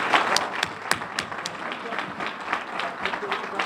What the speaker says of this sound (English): one big round of applause for our Lieutenant Governor for coming out